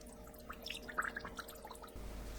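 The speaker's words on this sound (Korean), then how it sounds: "다시마 우린물 300ml 부어주세요." Kelp broth, about 300 ml, poured into a pot for braised aged kimchi with pork belly, giving faint, close liquid trickles and drips that fade after a couple of seconds into a steadier low hum.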